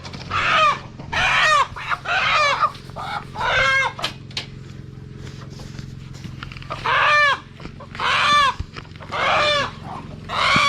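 Chickens cluck repeatedly in bursts of harmonic calls, fairly close, with brief pauses and a steady low background hum, near rice fields in Champasak, Laos.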